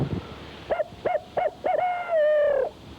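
Four short hooting whistle notes in a steady rhythm, then one longer drawn-out hoot, a hand-blown owl call imitating an owl, close and clear.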